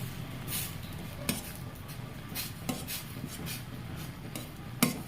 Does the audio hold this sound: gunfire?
no